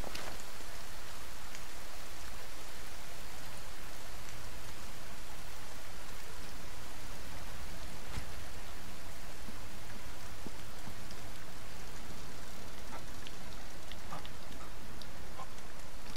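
Steady, loud rainfall in the survival video game The Forest, a dense continuous hiss of drops with occasional brighter droplet ticks, heard alone without talk throughout.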